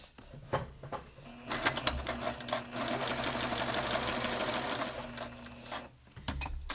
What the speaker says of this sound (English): I'll continue sewing.